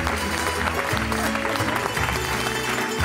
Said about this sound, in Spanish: Aplauso para Mamadou Cámara